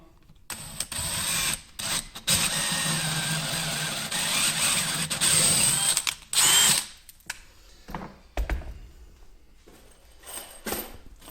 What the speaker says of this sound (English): he's using a wood bit just to drill out the size hole that we need for the toggle bolts